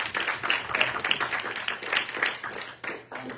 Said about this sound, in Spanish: Póngase de pie y denle un aplauso al Señor si lo siente en su corazón